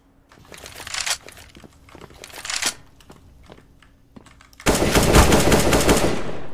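Automatic gunfire from the game Counter-Strike: Global Offensive (CS:GO) crackles in two short rapid bursts, followed by a long loud sustained volley of shots close by.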